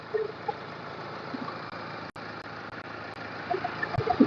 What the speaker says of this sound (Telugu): అంటే ఇంజన్ అయితే రన్నింగ్ పర్ఫెక్ట్ ఉంది